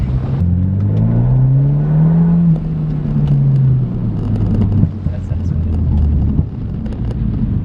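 Tuned BMW 328i F30 with a burble exhaust tune, engine revving up and holding, then easing off into a lower drone with scattered crackles, close and loud amid wind noise.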